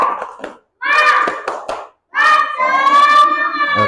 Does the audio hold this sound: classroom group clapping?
yes